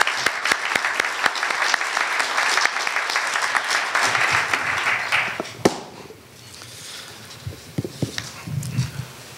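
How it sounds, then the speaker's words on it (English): A large audience at a university consortium opening ceremony bursts into loud, dense applause that carries steadily for several seconds, then thins abruptly into scattered claps and low room murmur. "Let's give him a big round of applause"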